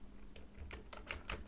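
Keystrokes on a computer keyboard as a trace command to google.com is typed and entered on a dual-WAN network setup: several quiet, separate clicks spaced irregularly, close and faint, with no talking.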